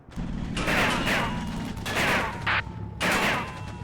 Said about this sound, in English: some heavy machine gun fire